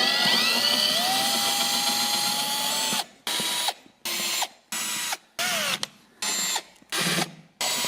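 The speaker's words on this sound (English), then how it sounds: "drill out some holes here, put some screws in it" A power drill bores holes and drives screws into a standing desk frame, first as one long steady whir, then as a string of short, evenly spaced bursts close by.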